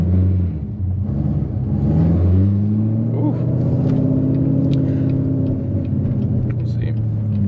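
A cammed Corvette Z06 idles with a deep, lumpy rumble close by at a drive-through, the engine note rising slightly as it settles, while a person talks over it.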